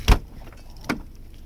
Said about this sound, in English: let's close the trunk